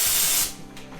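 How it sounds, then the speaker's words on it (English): Raptor liner undercoat sprayed onto a classic car body: a loud, close pneumatic spray hiss for about half a second, cutting off abruptly and followed by a fainter shorter burst, with no talking. "And now the Raptor lining begins."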